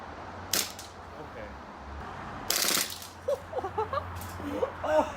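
An airsoft gun fires in two sharp, loud cracks, one early and one a couple of seconds later, followed by quieter clicks and rustling as it is handled.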